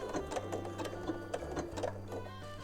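A sewing machine stitches slowly along the edge of an appliqué, its steady mechanical hum and rapid needle ticking close and continuous with no voices.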